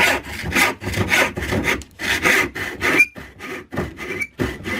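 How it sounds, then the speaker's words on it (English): Handsaw cutting wood up close, a steady series of rasping push-and-pull strokes in an even rhythm, with no talking. "I just choose to do it with a handsaw."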